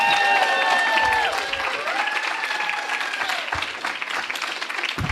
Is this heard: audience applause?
yes